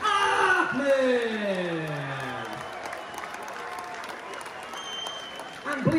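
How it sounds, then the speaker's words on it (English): At an MMA fight night in Doncaster, crowd applause for a fighter carries on as a steady, moderately loud patter, with a voice speaking over the first few seconds and again at the close. "A huge round of applause for an excellent opponent in Alistair Fitzharris."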